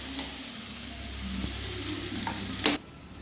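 Onions fry in a pan with a soft, even sizzle while being stirred, with a few light utensil taps and one louder scrape near the end, no voices.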